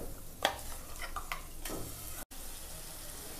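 Ground onion-tomato paste stirred into masala in a pan for Tamil egg curry, giving a soft wet sizzle with a few spatula scrapes and clicks, close and low in level.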